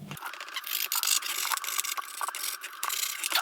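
Close, scratchy rasping of a knife slicing through skateboard grip tape, continuous with uneven strokes and brief catches, no voices.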